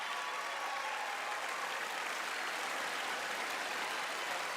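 Sustained applause from a large audience in the chamber during the State of the Union Address, a dense, even roar of clapping holding steady at full loudness throughout with no pauses.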